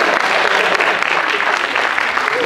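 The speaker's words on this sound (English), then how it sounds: "give them a round of applause" Crowd at a stand-up comedy show in India claps loudly and continuously, a thick wash of applause filling the room with no pause.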